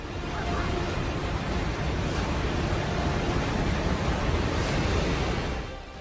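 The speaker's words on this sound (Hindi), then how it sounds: "पानी की लहरें बड़ी बड़ी इमारतों से भी बहुत ऊंची उठ रही हैं।" Floodwater surging through the Rasuwa area of Nepal, a loud, steady roaring wash of churning water with no pauses, rising in gusts and fading slightly at the end.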